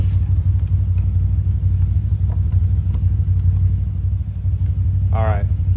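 Four-wheeler ATV engine running during a ride, a steady low rumbling drone held close and loud, with a brief voice cutting in near the end.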